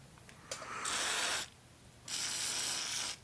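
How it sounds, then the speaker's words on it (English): Contact cleaner from an aerosol can is sprayed onto an old pinball cabinet mechanism in two loud, hissing bursts, close up, with a short quiet gap between them and a faint click just before the first. "I am going to take my contact cleaner"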